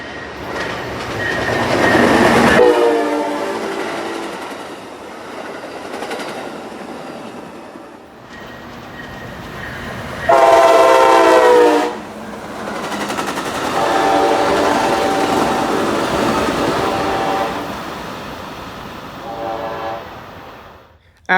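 Amtrak train led by two ALC-42 locomotives passing, loud rolling clatter with horn blasts sounding in several separate bursts, close and continuous throughout.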